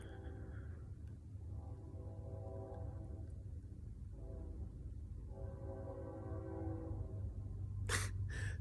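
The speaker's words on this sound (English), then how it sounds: "Sorry about that train in the back." A train passes in the background, its low rumble building steadily with a horn-like tone sounding near the end, heard alone without talk.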